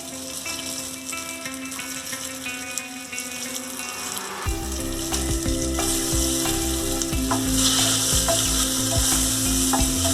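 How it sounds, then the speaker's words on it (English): Cumin seeds and red chili crackle and sizzle in hot oil in a pan, a soft hiss at first that jumps to a loud, dense, continuous frying sizzle a few seconds in, close and alone. "Heat the pan. Add some oil. Cumin seeds."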